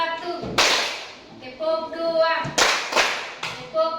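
A school class claps together in counted sets, sharp loud bursts of many hands arriving in groups, with a teacher's voice calling out the counts between them.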